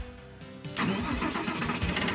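A stripped-down Porsche Boxster engine cranks briefly, then catches and settles into a loud, steady idle with a few revs, heard close up with no talking.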